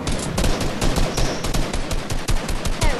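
Rapid bursts of gunfire from the video game Fortnite, loud and dense with overlapping shots and repeated volleys, heard alone without talk.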